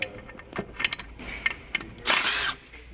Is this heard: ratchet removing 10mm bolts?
yes